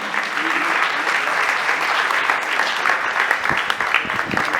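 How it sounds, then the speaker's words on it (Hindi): Sustained, dense applause from a seated audience at an award felicitation ceremony honouring Sonu Nigam, steady and fairly loud throughout, with scattered individual claps standing out toward the end. "हम सभी हमारी जोरदार तालियों के साथ इस बात का अभिनंदन करें"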